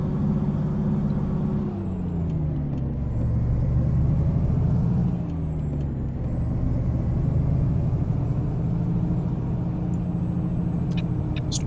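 A 680 truck in American Truck Simulator, on a run from Los Angeles to Eureka, drones with a steady, deep engine rumble and a high thin whine, its pitch rising and falling slightly, with a brief hiss near the end.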